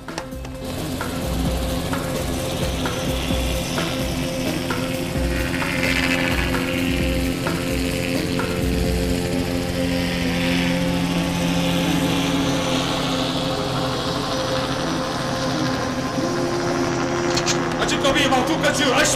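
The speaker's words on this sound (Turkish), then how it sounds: "polis helikopteri avluya acil iniş yapıyor." Steady throbbing rotor and engine roar of a police helicopter landing close by in a prison yard, continuous and loud throughout, with raised voices faintly underneath.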